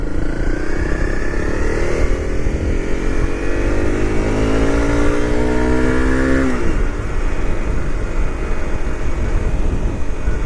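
A motorcycle on a road trip through south-west Australia drones loudly and continuously, its engine pitch rising through gears then settling, with steady wind rush throughout.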